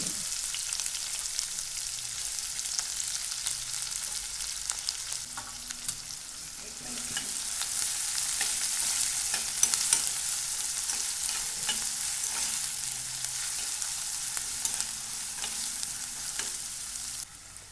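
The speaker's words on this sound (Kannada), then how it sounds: "ಅರ್ಧ ಕಟ್ ಮಾಡಿಟ್ಕೊಂಡಿರುವಂಥ ಮೂರು ಮೆಣಸಿನಕಾಯಿ ಎಣ್ಣೆಗೆ ಚೆನ್ನಾಗಿ ಹುರಿಬೇಕು" Halved green chillies and onion fry in hot oil while being stirred, a continuous bright sizzle with scraping strokes of the spoon against the pan, growing slightly louder partway through.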